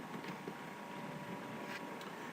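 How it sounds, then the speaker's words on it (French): A computer cooling fan hums and whooshes steadily, a faint, even, continuous drone with slight fluctuations and no other sounds or voices. "c'est le bruit de mon ventilo, c'est pas terrible du tout"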